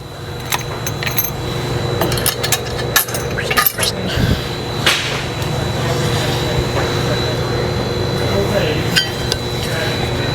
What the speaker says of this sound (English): Make sure we got the washers in between everything here.